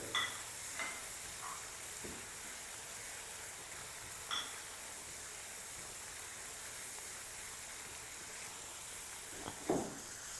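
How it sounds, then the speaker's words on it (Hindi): Spices roasting in a hot pan for restaurant-style shahi daal give a steady hiss and sizzle, with occasional stirring scrapes and soft crackles. Quiet and continuous, no voices. "1 मिनट तक तकरीबन हमने मसाले शामिल करने के बाद कर लेनी है भुनाई।"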